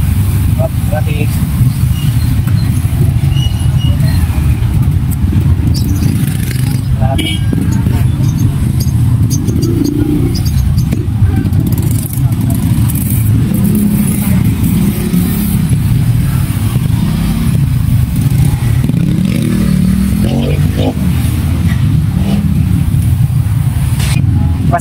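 Busy road traffic along Malagtas Road in the Caloocan, Bulacan and Valenzuela area, with cars and motorcycles rumbling and revving close by in a steady loud mix, and people talking through much of it.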